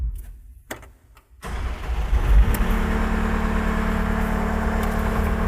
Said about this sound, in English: We will now start the engine.